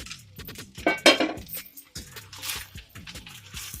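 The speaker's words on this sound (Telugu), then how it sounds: "ఈ ఎగ్ కూడా వేసుకుని మొత్తం కలిసేలా కలుపుకోవాలి" Fried egg being stirred into semiya in a pan, with repeated clinks and scrapes of a utensil against the pan and a few brighter metallic knocks, close by and without talk.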